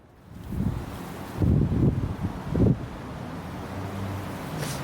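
Wind blows steadily outdoors on a cold night near a riverside, a low rushing roar with a few stronger gusts rising and falling, no talking.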